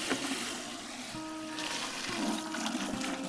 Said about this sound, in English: And then I'll rinse my bucket out.